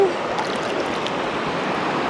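A forest stream flows over rocks with a steady, close rushing and burbling of water that continues evenly throughout.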